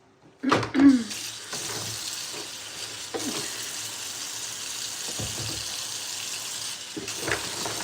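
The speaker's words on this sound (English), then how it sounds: "That's why I wash my buckets in the bathtub." Water runs steadily from a tap into a bathtub while buckets are being washed, with a few sharp knocks and clunks of plastic at the start and scattered handling noises over the continuous splashing flow.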